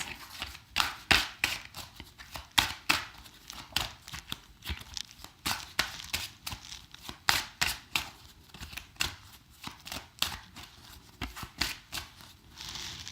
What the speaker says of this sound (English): if we get in about, I don't know, I guess a minute into shuffling